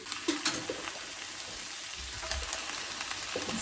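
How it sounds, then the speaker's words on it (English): Dinner sizzles and crackles steadily in a frying pan while being stirred, with a continuous hiss and occasional scraping clicks, close and fairly loud, with no talking. "Better get back to stirring my dinner."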